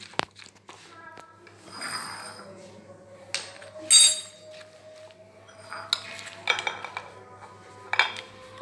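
Utensils clink and scrape against a dish as cream chaat is served, a few sharp metallic and glassy taps scattered over a quiet room with a soft steady hum.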